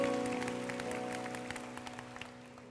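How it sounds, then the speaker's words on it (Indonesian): A church congregation clapping during a mission night service, a faint, distant patter of applause over a steady tonal hum, fading gradually over under three seconds. "Kasih tepuk tangan untuk Tuhan Yesus."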